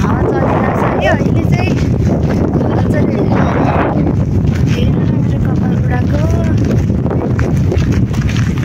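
Strong wind buffets the microphone at an outdoor market in Finland, a loud continuous roar with low rumbling gusts and faint voices in the background throughout.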